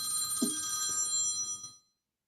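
A telephone rings with a bright, steady electronic bell tone that sustains for over a second and then cuts off abruptly into silence.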